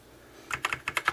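Fingers type on a Motospeed CK101 RGB mechanical keyboard, a close run of about eight crisp, clacky keystrokes in quick, slightly uneven rhythm after a near-silent start.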